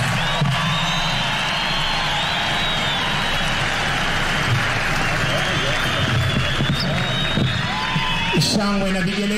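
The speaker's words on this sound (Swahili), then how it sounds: "Shangwe na vigelegele kwake Mheshimiwa Rais, makofi mazuri" Loud, sustained crowd applause and cheering for the President at a Kenyan military (KDF) farewell event, dense clapping and shouts continuing without a break, with a voice breaking through near the end.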